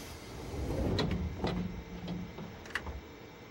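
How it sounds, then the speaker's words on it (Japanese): Yamanote Line train doors sliding shut in a train simulator game, with a mechanical whoosh and a few clunks over a steady background hum. "1番線ドアが閉まります。"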